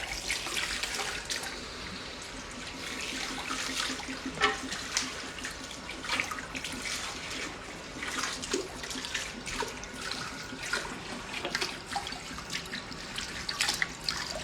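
Water runs steadily from a salon tap while hair is wetted before a wash, a continuous splashing hiss with small drips and irregular spatters, fairly close and with no talk over it.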